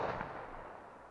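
A single Mini Jumbo Kometa firecracker bang with a rumbling tail that fades over about a second, heard from a short distance, no voices.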